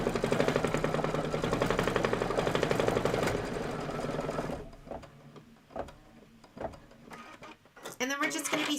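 A Kimberbell embroidery machine runs a steady rapid mechanical stitching rhythm for several seconds, then pauses into quieter, scattered clicks and a voice before stitching resumes briefly.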